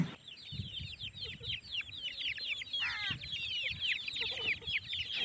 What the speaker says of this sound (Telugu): కోళ్ళు అయితే ఇలా తిరుగుతున్నాయండి లోపల